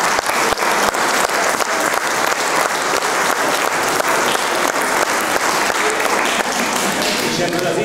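A school audience at a Hungarian Christmas event in Bercel claps in loud, dense, continuous applause that holds steady for about eight seconds.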